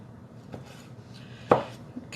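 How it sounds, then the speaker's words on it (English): A knife chops mushrooms on a board, with a couple of isolated, fairly quiet knocks, one sharper than the rest, against low background noise. "Kind of is bittersweet chopping these up."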